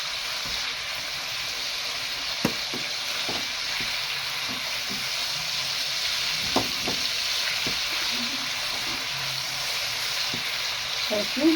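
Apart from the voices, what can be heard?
chicken liver and gizzards stir-frying in a pan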